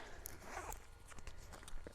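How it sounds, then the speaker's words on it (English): A metal carabiner clicks as it is hooked through the hole of a fanny pack zipper pull, giving a few short, close, quiet clinks and rustles of fabric handling. "you also hook the carabiner clip into the hole of the zipper pull"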